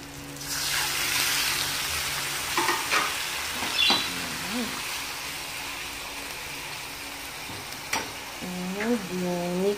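Squid for adobong pusit stir-fried in a hot pan, a soft, steady sizzle with intermittent clinks and scrapes of a spatula, while a voice speaks faintly in the background.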